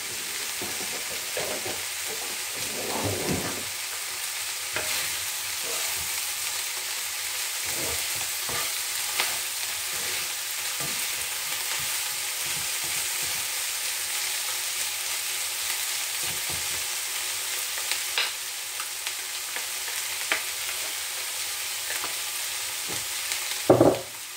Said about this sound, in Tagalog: Tostahin lang natin konti.